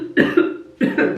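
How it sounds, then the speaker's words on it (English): Two sharp, close coughs, one after another with a short pause between, no talking. "I don't even know where that cough came from."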